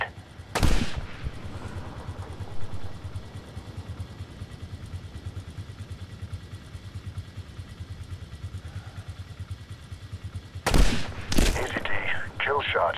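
In the 2010 Medal of Honor video game, two loud, sharp sniper rifle shots sound near the start and end, separated by a long stretch of low ambient rumble.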